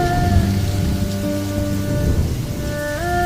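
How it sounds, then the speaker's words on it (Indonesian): Rain pours down as the first rain after months of drought, a loud, steady hiss with low rumbling underneath and sustained tonal music layered over it. "Hujan sudah turun teman-teman."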